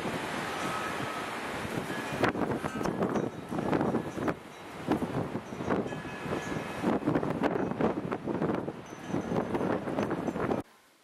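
Strong gusting wind on an extremely windy day buffets the microphone with a steady broadband roar that swells and surges in repeated gusts, loud and close, with no talk, before cutting off abruptly near the end.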